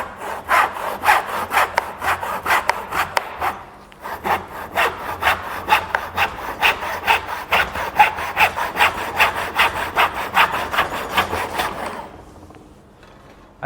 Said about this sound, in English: saw on through.